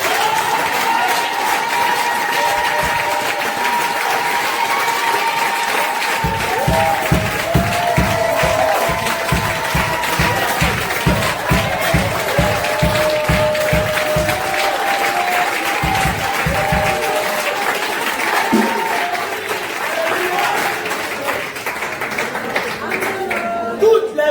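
A church congregation at an evangelistic gathering claps and cheers for the Lord, dense sustained applause with a rhythmic clapping stretch in the middle, voices calling out over it.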